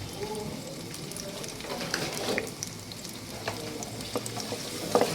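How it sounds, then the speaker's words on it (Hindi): Chopped onions frying in a cup of oil for keema karahi, a soft continuous sizzle with scattered pops and light stirring clicks, no one speaking. "सबसे पहले एक कप ऑयल लेंगे, उसमें 2 प्याज भारी कटी हुई ऐड करेंगे।"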